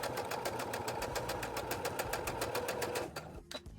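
A sewing machine chain-stitches fabric pieces for a mug rug in a fast, even mechanical patter. It runs close and steady for about three seconds, then stops abruptly.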